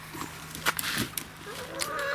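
Several chickens cluck and squawk close by in an agitated, uneven chorus, with a faint steady hum underneath.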